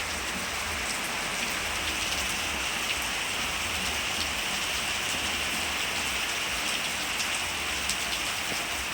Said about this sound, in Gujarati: જો કેટલો બધો વરસાદ આવવા લાગ્યો